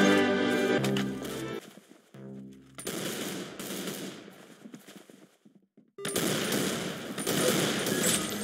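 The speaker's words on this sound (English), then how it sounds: "Very good shooting" Bursts of rapid gunfire from a shooting session, loud and close, with dense automatic-sounding volleys separated by brief pauses and a near-silent gap before a final sustained barrage.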